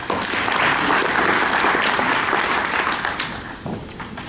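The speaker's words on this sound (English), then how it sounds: "Quick round of applause for my willing victim." An audience at a talk on hacking the Internet of Things gives a quick, dense burst of applause that is steady at first, then thins out and fades.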